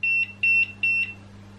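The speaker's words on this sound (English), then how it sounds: "the robot beeps" A Lefant M201 robot vacuum gives three paired high-pitched electronic beeps in a regular rhythm over a low steady hum, clear and close with no voices.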